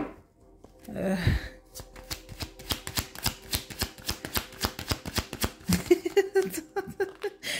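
Tarot cards being handled and shuffled, a rapid run of crisp riffling snaps and flicks close up, preceded by a soft exhale and ending with more card handling.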